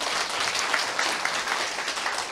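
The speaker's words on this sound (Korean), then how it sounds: "여러분을 위해서 박수 한번 치세요." A crowd applauds steadily, many hands clapping together in a dense, even wash of sound with no voices.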